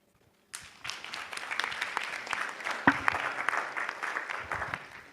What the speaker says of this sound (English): Proper claps for Dr. Nigel.